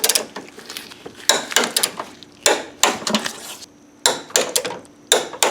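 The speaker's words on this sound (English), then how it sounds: "now I'm going to tighten all these 3 bolts down to 25 foot-pounds" Wrench ratcheting on three bolts while a Detroit Speed Wonder Bar is fitted to a third-generation Camaro or Firebird steering box, heard up close as bursts of rapid metallic clicks separated by short pauses.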